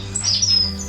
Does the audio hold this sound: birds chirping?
yes